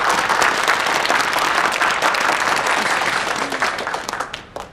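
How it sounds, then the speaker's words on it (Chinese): A studio audience breaks into dense, sustained applause that stays loud and even before thinning into a few scattered claps at the end, with no voices on top. "掌声鼓励一下"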